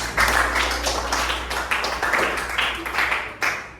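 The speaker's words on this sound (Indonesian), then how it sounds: "Tepuk tangan untuk kalian semua." Classroom applause from a group of students praised by the teacher, a run of uneven claps at close range with some voices mixed in and a low steady hum beneath.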